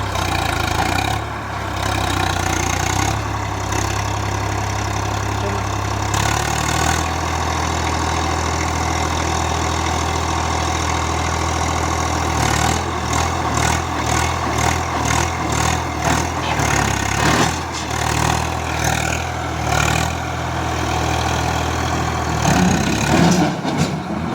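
A farm vehicle's engine idles steadily, then runs on as it pulls away, a continuous mid-to-low rumble with some clattering bursts partway through and no talking.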